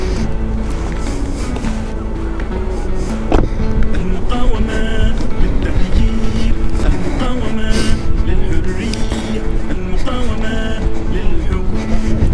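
A custom Triumph Thruxton R street tracker motorcycle rides across a bridge, its engine a steady busy drone with rumbling road and wind noise and occasional sharp knocks.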